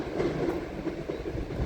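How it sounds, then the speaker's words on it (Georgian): A train rolls across the high Bezhatubani railway viaduct, a steady low rumble of rail cars with faint rhythmic clatter of wheels, heard from a distance and continuous without speech. "როგორ მოძრაობს მატარებელი ბეჟათუბნის ვიადუქზე"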